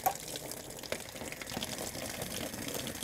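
Vinegar water draining out of an RV water heater tank, a faint continuous splashing gush with no talk over it.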